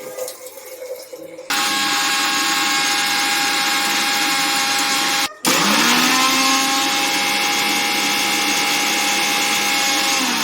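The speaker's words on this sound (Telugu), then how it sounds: "నన్ను తీయకు మొత్తం మిక్సీ చేసుకోండి" A kitchen mixer grinder blends ginger, garlic and green chillies: the motor kicks in loudly after a quieter start, whines steadily, pauses briefly, then resumes at full roar.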